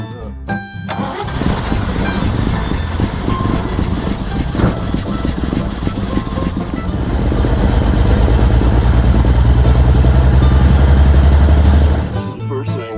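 An engine idles steadily as it warms up, the note settling into a deeper, louder rumble in the second half before cutting off near the end, with a voice briefly audible over it.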